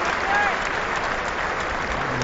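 A cricket crowd at an England versus India Test match applauds a batsman's running between the wickets with broad, steady, distant clapping under faint commentary-like background.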